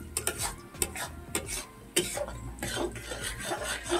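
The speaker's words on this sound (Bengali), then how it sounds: "যতক্ষণ না তেল ছাড়ছে মশলা থেকে ততক্ষণ আমি ভালো করে কষিয়ে নেবো।" Spices stir-fried in oil in a pot on a stove, a spoon scraping and clattering against the metal in quick repeated strokes over a soft sizzle, close and fairly quiet.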